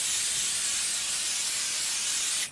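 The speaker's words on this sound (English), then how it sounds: "because it is an aerosol spray" Aerosol spray hisses steadily and close onto quilt fabric in one continuous burst that cuts off abruptly at the end.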